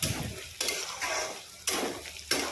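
Ingredients including crushed jati jaluk pepper and jabrang are stirred in a frying pan for a pork and taro-flower dish, with scraping strokes in three or four bursts over a steady sizzle and no talk.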